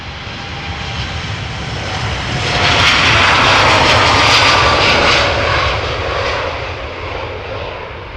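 Airliner jet engines roaring loud and close during takeoff at Amsterdam Schiphol, a broad sustained roar that builds to a peak midway and then slowly fades.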